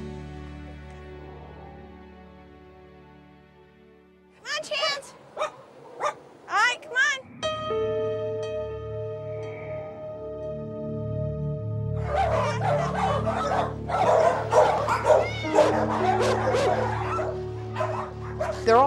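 Dogs in a hoarding home bark, yip and whimper in bursts, first a short run of sharp barks, then a steady whine and a louder cluster of overlapping yelps, with faint child speech in places.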